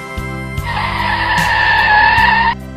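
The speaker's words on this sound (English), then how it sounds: "That truck just came to a complete stop." A cartoon truck skids to a stop, a loud sustained tire squeal lasting about two seconds over engine rumble, ending abruptly.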